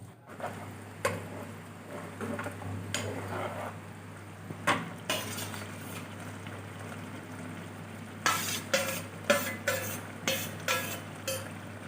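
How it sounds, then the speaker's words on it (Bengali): Capsicum being stirred in a pan of simmering water for an aloo capsicum masala, with a steady cooking hiss throughout and a run of sharp spoon-on-pan scrapes and clinks toward the end. "ক্যাপসিকামটা দিয়ে কিছুক্ষণ খুব ভালো করে নাড়িয়ে নিয়ে"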